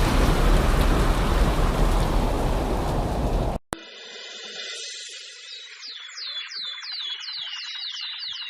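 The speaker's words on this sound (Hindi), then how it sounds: "भगवान, यह तो बहुत जोर की बारिश आ गई।" Heavy cartoon rain roars as a loud, dense wash of noise for a few seconds, then cuts off abruptly to birds chirping in a quieter scene.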